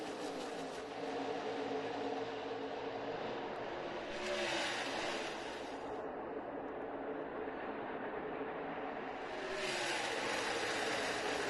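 NASCAR stock cars roaring off turn 2 at the start of the 2018 O'Reilly Auto Parts 500, a continuous loud broadband engine roar that swells near the beginning and again toward the end as the pack passes.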